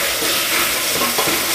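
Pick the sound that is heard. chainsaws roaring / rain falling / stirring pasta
stirring pasta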